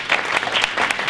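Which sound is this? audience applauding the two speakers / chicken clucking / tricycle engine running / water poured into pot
audience applauding the two speakers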